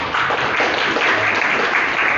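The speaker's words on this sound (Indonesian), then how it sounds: "Betul, tepuk tangan buat dia nih" Classroom applause for a student, a dense burst of clapping from many hands, loud and close, with some talk mixed in.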